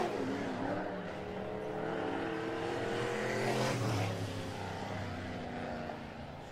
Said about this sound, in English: Miles Cook with a good lap